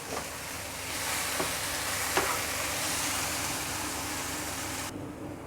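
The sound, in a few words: onion and potato frying in a pan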